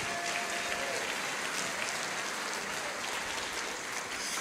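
A church congregation claps during a Portuguese-language sermon, a continuous, even wash of many hands that sounds like steady rain and stays moderately quiet and distant throughout.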